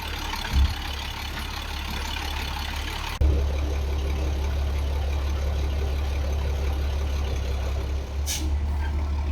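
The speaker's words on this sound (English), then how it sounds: "By day 4, the bus was rolling again." A repaired bus engine runs loudly and steadily at close range, with a sharp air-brake hiss near the start and a brief high hiss later as the bus begins rolling again.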